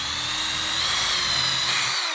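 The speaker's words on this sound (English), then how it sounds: "Since I have my drill in my hand, let's do it for real." A cordless power drill whines steadily at high speed while drilling to install a keyless lock on a shed, one continuous close run that stops abruptly at the end.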